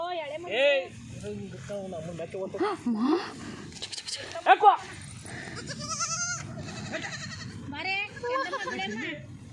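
A young goat kid bleats several times in short wavering cries, close by, mixed in with children chattering and playing around it.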